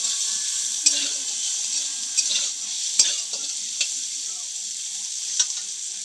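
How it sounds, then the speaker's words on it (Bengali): Okra sizzles and fries in mustard oil in a pan, a steady bright crackle with occasional sharp clicks as the pieces are stirred, close and fairly loud. "এরপর আমরা ভেন্ডিটাকে ভালো করে কষিয়ে নেব।"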